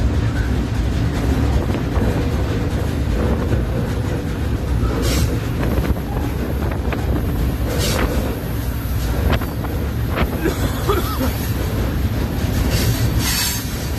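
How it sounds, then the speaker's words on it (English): A Norfolk Southern freight train rolls past close by, with a continuous heavy rumble of railcars, rhythmic wheel clatter and occasional squeals under gusty wind noise. "westbound train takes the high route here."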